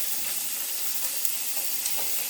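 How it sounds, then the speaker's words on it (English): Chicken breasts brown in a hot pan, producing a loud, even, unbroken hiss of frying fat at close range with only small crackles and no voices. "make sure you have a hot pan for browning"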